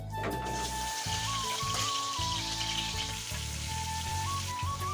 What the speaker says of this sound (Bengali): এখন আমি মাছটা ভেজে নিই